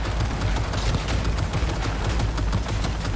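A rail-mounted turret in Cyberpunk 2077 fires continuously, a dense, loud stream of rapid gunfire with heavy low thumps running unbroken throughout.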